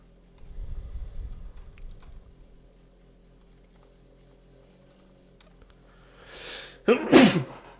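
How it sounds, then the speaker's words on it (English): A single sharp sneeze bursts out near the end, following a stretch of quiet rustling and light tapping. "I have the sneezes"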